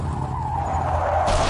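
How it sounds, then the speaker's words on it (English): A powerful black Ford roars toward the listener at high speed, a loud, steady engine drone with screeching tires that swells and brightens near the end. "I heard the roar of a powerful engine approaching at high speed."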